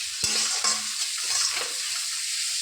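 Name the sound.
frying chopped onion with salt for fish-head dal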